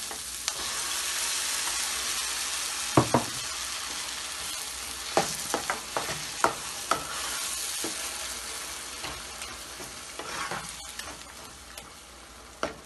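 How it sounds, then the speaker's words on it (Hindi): Tomatoes fry in a little oil in a pan, giving a steady close sizzle throughout, with a few sharp clinks and scrapes of a spoon as they are stirred. "अब हम इसमें टमाटर डालेंगे"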